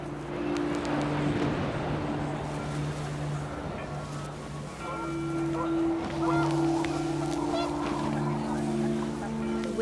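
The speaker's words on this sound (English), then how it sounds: "The wind picked up, and panicked geese appeared and quickly went." Panicked geese honk in a video game as wind rises, a steady chorus of calls over gusty ambience with some speech-like sound mixed in.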